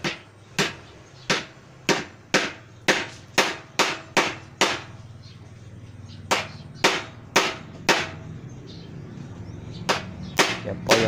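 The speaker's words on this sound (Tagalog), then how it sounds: "Pupukpukin na lang po natin pabaon." A wood screw is hammered into wood for a changing table with a steady run of about twenty sharp, close taps, separated by a short pause.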